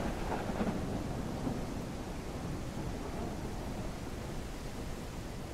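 Steady heavy rain hisses through a thunderstorm in the survival game Mist Survival, with a low rumble of thunder near the start and no speech.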